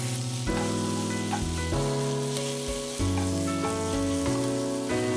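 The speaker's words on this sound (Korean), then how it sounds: "고춧가루 한 숟갈 더 넣어서 볶아요" Steady sizzling of chicken feet being stir-fried with chili powder in a hot pan, heard under continuous background music.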